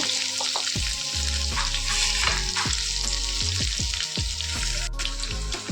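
Paneer pieces frying in hot oil in a pan, a loud steady sizzle running throughout with occasional clinks and scrapes of a utensil, close up and without talk.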